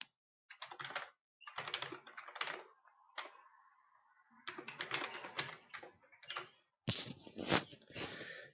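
Fingers type a username and password on a computer keyboard in bursts of close, crisp key clicks, with short pauses between runs of keystrokes.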